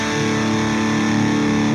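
Electric guitar run through a heavy distortion pedal with the guitar's tone knob rolled to half, a sustained saturated chord ringing steadily and loud for under two seconds with no talk.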